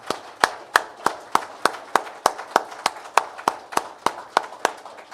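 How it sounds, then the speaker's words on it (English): Hand clapping at a trucking company awards ceremony in honour of the drivers' families: about sixteen sharp, evenly spaced claps in a steady rhythm, close and distinct, with no talking over them. "How about a round of applause for the families?"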